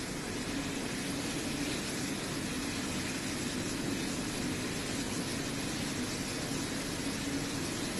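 Jet aircraft roar overhead in a fighter flypast of Sukhoi, Jaguar and Mirage jets at the Purvanchal Expressway opening in Sultanpur, a steady loud broadband rumble that holds for the whole stretch with no voices.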